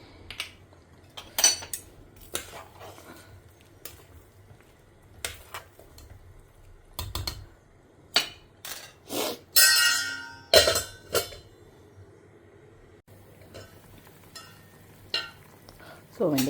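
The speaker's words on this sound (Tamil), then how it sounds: "கொஞ்சம் கொதி வந்து வெண்டைக்காய் வதங்கட்டும்" Okra sautéing in a pan at home, heard as irregular sharp clinks and scrapes of a spoon against the pan over a faint low background, with pauses between strokes.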